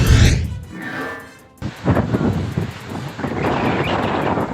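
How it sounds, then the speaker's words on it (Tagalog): Strong coastal wind on Calayan Island, Cagayan, roars and buffets loudly and steadily, with gusty broadband rushing that swells and dips throughout. "Malakas ang ihip ng hangin na may kasamang pabugso-bugsong ulan."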